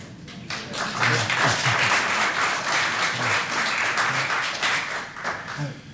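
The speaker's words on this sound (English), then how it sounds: "I appreciate the applause, folks" A crowd at a public meeting on a venue project breaks into applause, a dense, sustained wash of clapping that swells and holds for several seconds, with faint voices underneath.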